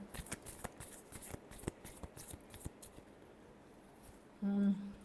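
Tarot cards being shuffled, a quick run of soft riffling flicks and snaps up close, then a short electronic beep at the end.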